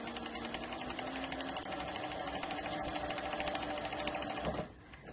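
A Titan 1341 industrial cylinder arm sewing machine winds a bobbin with a steady, close mechanical whir that cuts off near the end.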